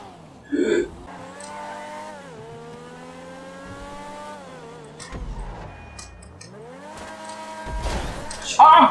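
Car engine racing in GTA Online, a steady droning engine tone that rises and falls in pitch with revving and gear changes, with brief louder bursts near the start and end and voices talking over it.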